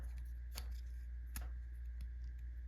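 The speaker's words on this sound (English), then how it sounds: "Now we want to take these wheels and they will just fold in to one another" Wheels on a Transformers Studio Series Deluxe Elita-1 toy folding together make a few faint, sharp plastic clicks, spaced apart, over a low steady hum.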